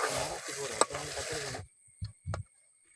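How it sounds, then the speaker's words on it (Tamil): Green chilies frying for a crab fry are stirred in a pan with a spoon, making rhythmic scraping and sizzling strokes for about a second and a half, followed by a few separate clinks and scrapes. "அடுத்து பச்சை மிளகாய் போட போகிறோம். அதையும் நல்லா கிண்டி விட்டுவிடணும் மக்களை."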